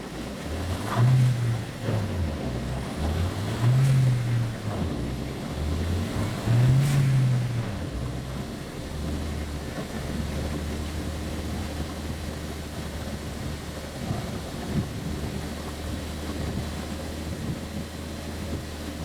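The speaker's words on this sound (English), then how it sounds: "So we're going to go ahead and get the dyno going here and show you guys the numbers with our S-line Wastegate actuator." Turbocharged Chevrolet Sonic engine running on a chassis dyno with an upgraded wastegate actuator, a loud droning roar that swells and falls in several revving pulses before settling into a steady heavy rumble.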